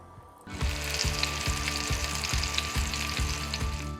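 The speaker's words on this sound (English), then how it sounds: "you really just want to get them browned on all sides" Meatballs browning in a hot pan give off a loud, steady sizzle and crackle that starts abruptly and holds continuously, with no voices.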